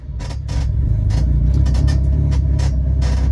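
A Subaru WRX STI (VA) with an external wastegate stuck closed and overboosting cruises calmly downhill, its engine a loud, steady low rumble, with brief hissy bursts over the top.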